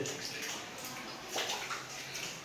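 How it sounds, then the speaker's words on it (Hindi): Water pouring steadily out of a street gutter during flooding in Jamnagar, a continuous broad rushing and splashing, fairly close and unbroken, with no voices. "ये अभी गटर में से पानी आ रहा है।"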